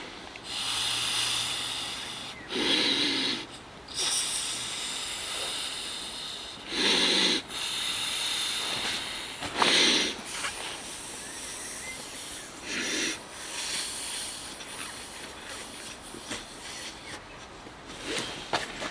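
Someone puffs air by mouth into the valve of a self-inflating 5cm camping mat, with several short, close breathy blows spaced a few seconds apart over a soft background hiss.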